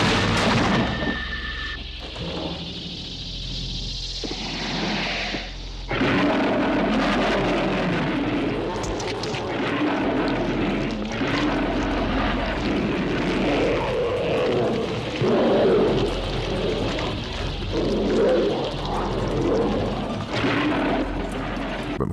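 From The Thing (1982), dynamite explosions rip through a burning Antarctic camp: deep booming blasts and a sustained roaring rumble, loud and continuous, with voices talking over part of it.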